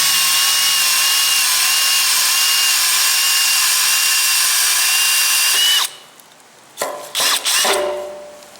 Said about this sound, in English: drilling one hand with a step drill